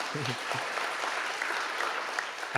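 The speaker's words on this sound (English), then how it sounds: "Yes, round of applause." A broad, steady round of applause from an audience at a children's book awards ceremony fills the room, with a speaker's voice briefly heard at the start and end.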